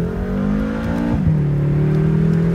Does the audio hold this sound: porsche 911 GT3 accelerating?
yes